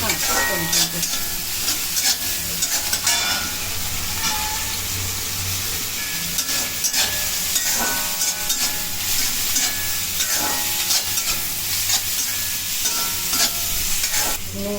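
Spices, ginger-garlic paste and chopped tomato being stirred and fried in a pan: a steady close sizzle with repeated scraping of a spoon, no talk over it.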